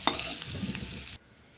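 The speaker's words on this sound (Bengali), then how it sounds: "আমার আলুটা ভাজা হয়ে গেছে," Potatoes fry in oil for a vegetable dal khichuri, a close, fairly quiet sizzle with stirring that lasts about a second before cutting off to near silence.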